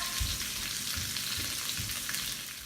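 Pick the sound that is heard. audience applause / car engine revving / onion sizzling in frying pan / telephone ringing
onion sizzling in frying pan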